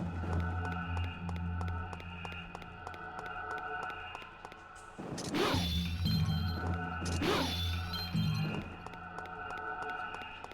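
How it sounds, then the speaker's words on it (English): Two bright shattering crashes of artifacts breaking in the game Devil May Cry 2, spaced a few seconds apart and ringing over a dense, steady game soundtrack. "Smashing your precious artifacts."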